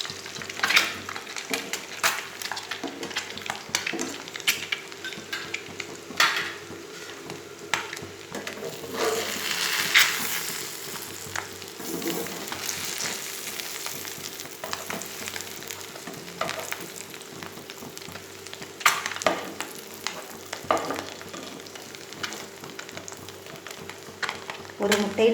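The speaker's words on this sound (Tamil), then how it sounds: "எந்த அளவுக்கு முட்டை பொரிஞ்சிருக்கு பார்க்கலாம்" Eggs frying in a pan for a spicy egg thokku, a steady crackling sizzle throughout with scattered louder pops and stirring scrapes, while a voice talks faintly now and then.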